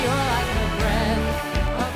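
Full music mix squeezed by a Waves Renaissance Compressor on the mix bus with a fast attack, giving a dense, pumping sound as a singer's melodic line runs over steady drums and bass, loud and continuous.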